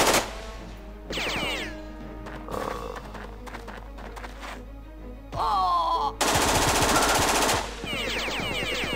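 Gunfire bursts and other combat sounds from the video game Jagged Alliance 2, with several loud bursts of varying length and a dense, noisy stretch near the end.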